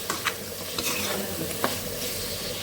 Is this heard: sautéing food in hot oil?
yes